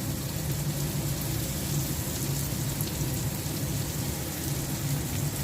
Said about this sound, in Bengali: ডিম চপগুলো তেলে ছেড়ে দিচ্ছি।